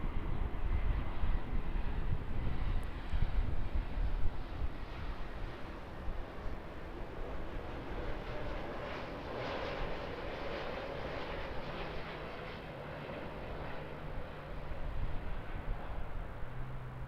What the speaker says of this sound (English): And our Brisbane A321neo now.